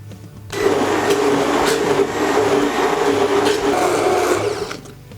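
A blender motor kicks on and grinds soaked walnuts with water for nut milk, a loud, steady whirring roar for several seconds before cutting off abruptly.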